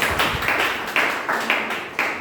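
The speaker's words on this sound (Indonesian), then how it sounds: "Dan tepuk tangan bagi Tuhan Yesus." A church congregation claps hands in worship, a roomful of sharp, fairly loud claps landing in a steady beat of about two per second, with no voices over them.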